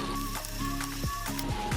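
Two medium chopped onions sizzling in hot oil with whole cumin seeds, a steady dense frying hiss with light scraping stirs and background tones throughout.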